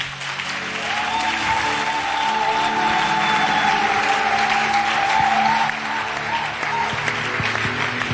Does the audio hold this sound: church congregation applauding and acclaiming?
yes